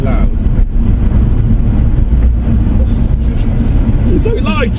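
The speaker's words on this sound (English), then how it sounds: "And the exhaust is quite loud." A Toyota Supra MK4 rumbles loudly with a deep, continuous exhaust drone, with wind buffeting and people talking over it.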